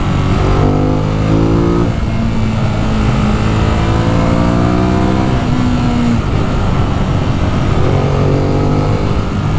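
A 2018 Ducati Monster 821 motorcycle accelerates hard, its engine note climbing through repeated gear pulls with loud, sustained revving and brief shifts, close and steady throughout with no talking.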